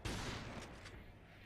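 Video game gunfire from Resistance 3, a sudden loud burst of shots that hits hard at the start and then rolls off into a rumbling, echoing tail over a second and a half.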